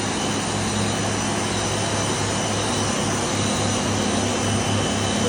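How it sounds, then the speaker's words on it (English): High pressure pump starting up at a water treatment plant, a loud continuous roaring hum with a steady low drone and broad hiss that holds constant throughout, with no voices over it. "Now the high pressure pump is starting up."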